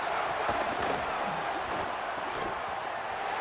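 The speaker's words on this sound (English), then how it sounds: "The roar of the crowd trying to fuel this defense to keep them pinned in their own end" Steady, dense roar from a college football stadium crowd, loud and continuous with no clear peaks, as fans try to fire up their defense and keep the opposing offense pinned deep.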